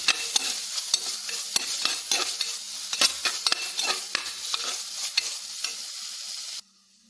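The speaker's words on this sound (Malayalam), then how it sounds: "ഇളക്കി കൊടുക്കാം ഇളക്കി കൊടുക്കാം" A spatula stirs through a spluttering pan where mustard seeds pop in hot oil for a Kerala fish curry base, with repeated sharp scraping strokes over a dense close sizzle that cuts off abruptly near the end.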